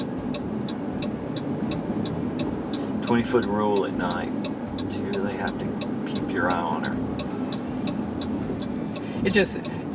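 Cars and big trucks pass on the road at night as a steady, rumbling traffic roar, with a repeating ticking sound over it and a person talking at times.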